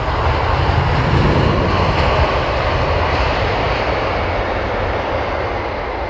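A Boeing 787 Dreamliner lands at London Heathrow, its engines a loud, steady broadband roar that fades slightly over several seconds.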